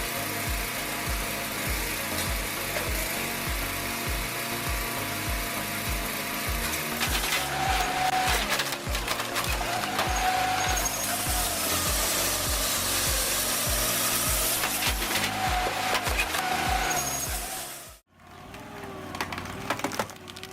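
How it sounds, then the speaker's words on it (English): A homemade automatic firewood processing machine cuts and splits logs with a steady, dense mechanical roar and grinding. The noise breaks off sharply near the end before resuming more quietly. "Check out the impressive performance of this wood splitter."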